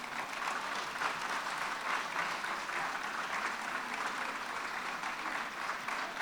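Steady, dense applause from an audience at a New Year's greetings ceremony in Fresnes-sur-Escaut, a continuous even clapping that holds at a moderate level throughout without pause.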